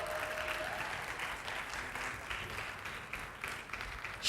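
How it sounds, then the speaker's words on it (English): A conference audience at a healthcare panel discussion gives a round of applause, steady dense clapping from a crowd throughout, slightly distant in the hall. "Please give him a round of applause"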